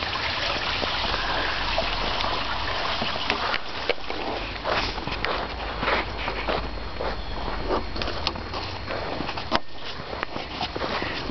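A small creek runs steadily nearby, a continuous trickling and gurgling wash with occasional brief rustles and footsteps mixed in.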